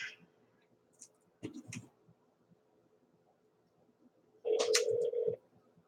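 Telephone call being transferred, heard as a short burst of dialing tones near the end, with brief faint clicks earlier and quiet line noise between.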